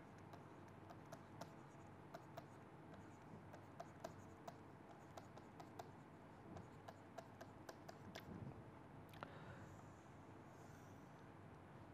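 Steady ticking and scratching of writing on a board during a structural geology lecture, a run of small regular taps and strokes over a constant low room hiss.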